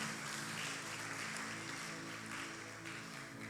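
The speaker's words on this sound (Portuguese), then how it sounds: "Você pode aplaudir ao Senhor Jesus, amém?" A church congregation claps, a fairly faint, continuous wash of applause heard from some distance in the hall, with no voices over it.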